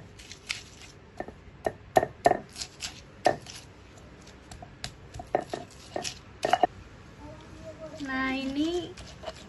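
Chilies, salt and raw garlic cloves pounded in a stone mortar, with repeated irregular thumps and grinding scrapes close by, while a person speaks intermittently.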